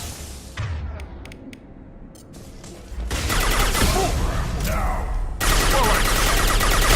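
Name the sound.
gunfire in the video game Mass Effect 2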